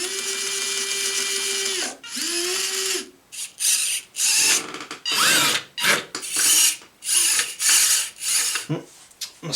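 Whirring motor bursts from an antweight combat robot replica of Mace spinning its flail, several loud close spin-ups and stops in quick succession.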